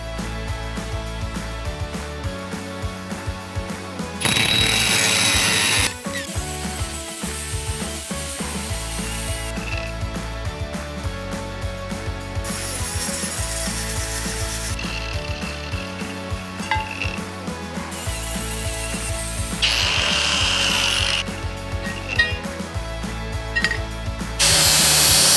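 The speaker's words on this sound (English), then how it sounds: "I'm going to take a piece of bigger tubing and split it in half" Power tools cut a length of large steel tubing in half lengthwise in a truck fabrication shop, a steady loud grinding drone with ratcheting mechanical texture and several harsher bursts of cutting.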